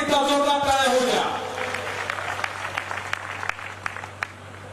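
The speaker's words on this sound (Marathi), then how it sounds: "एकदा परत एकदा जोरदार टाळ्या होऊ द्या" Applause from an audience at a Ganesh festival cultural evening, starting as a loud roar of clapping under a voice speaking over a PA, then thinning into scattered claps with a steady hum.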